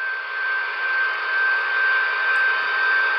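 Broadway Limited GP35 HO-scale diesel locomotives with Paragon 4 sound, running together at low speed step, give a steady, even electric whine with a constant tone throughout, close and continuous, no talking.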